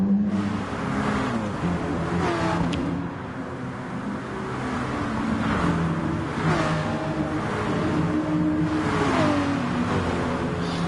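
Race car in a wet Spa driving game heading toward the La Source right-hander, a steady loud engine drone with shifting revs throughout, no talk over it.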